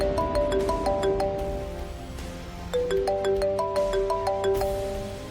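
A melodic electronic phone ringtone for an incoming video call plays a repeating pattern of bright tones, steady and prominent, with no talking over it.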